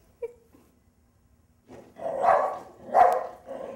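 Basil, a terrier puppy, lets out a quick yip, then after a pause breaks into three sharp, close barks at a cat, with a short whine between them.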